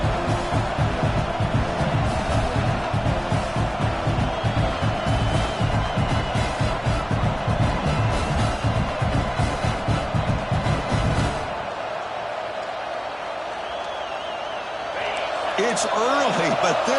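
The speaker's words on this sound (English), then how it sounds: "It's early, but this crowd is fired up. Listen to this noise here." A fired-up football stadium crowd in Tennessee roars and claps in a dense rhythmic wave, then drops off suddenly before cheering swells again, with a voice speaking over it.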